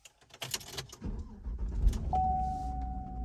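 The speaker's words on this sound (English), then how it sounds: "let's go ahead and start up the truck and make sure our backup camera is working" A Chevy Silverado pickup cranks with a short starter whir and catches, settling into a low steady idle, followed by a sustained electronic tone; faint clicks and rustling precede the start, all fairly quiet.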